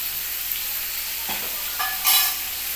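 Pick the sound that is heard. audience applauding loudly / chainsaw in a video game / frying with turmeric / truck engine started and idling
frying with turmeric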